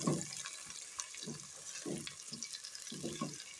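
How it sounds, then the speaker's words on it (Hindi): Crushed tomatoes cooking in a pan give a soft, quiet simmer and bubbling, with low muffled thumps and stirring knocks recurring every half second or so beneath the faint hiss. "ये मैंने पीस टमाटर ली है 2 अदद, इसको अच्छे से पकाएंगे"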